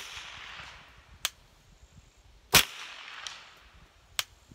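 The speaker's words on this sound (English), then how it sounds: "We're going to shoot down there at the 100." Firearm shots at an outdoor shooting range, firing downrange at 100 yards: three sharp, distant-sounding cracks spaced apart, the middle one loudest, over a quiet background with faint low rumble.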